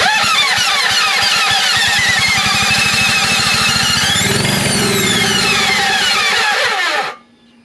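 Toro riding lawn mower engine starting and running, a loud close rapid chugging with harsh rattling that rises in pitch mid-way, then stops abruptly.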